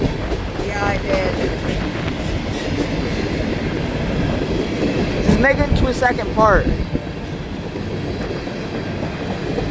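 A train runs along railroad tracks outdoors on a snowy day, its steady loud rumble filling the clip, with clattering wheels and a few squeals. People talk briefly over it.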